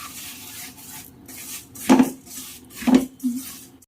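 Sugar being stirred into roasting semolina in a pan for an instant suji sweet, with two sharp metallic scrapes of a spoon against the pan standing out over a low, quiet background.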